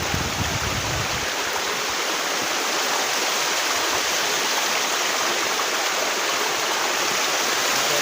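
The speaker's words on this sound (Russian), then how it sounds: "Только что приехал на водопад Плакун." Plakun waterfall pours in a steady, loud broadband rush of falling water, continuous and close throughout with no voices, a brief lower rumble at the very start.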